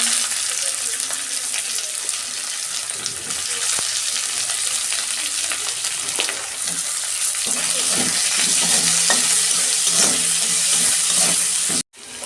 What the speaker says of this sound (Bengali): গোটা জিরে দিচ্ছি, পেঁয়াজ দিচ্ছি,